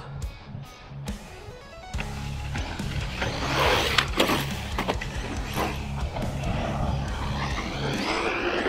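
A HOSIM X25 Vortan 1/8-scale brushless RC truggy drives over small jumps, its electric motor whining and surging steadily with clattering bumps and impacts; the motor sound fairly loud and continuous throughout.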